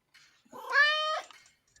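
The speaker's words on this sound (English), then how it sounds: "Oh, that's a perfect meow." A single clear cat meow, drawn-out and tonal, close and fairly quiet, rising then falling over about half a second with near silence around it.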